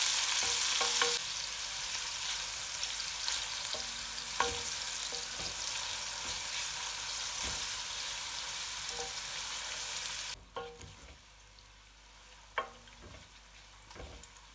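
Purple onions fry in a pan over medium heat, browning with a continuous close sizzle and occasional ticks and clinks of a utensil; the hiss drops noticeably quieter near the end.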